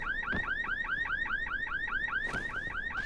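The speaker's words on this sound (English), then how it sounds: "where's that alarm coming from?" Car alarm in the video game Dying Light, a rapid repeating electronic whoop that cycles steadily in the background with a few faint thuds and no voices.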